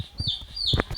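A newly arrived chick peeps in a short run of high, thin calls, close by and fairly clear, with soft low thumps and faint background noise beneath.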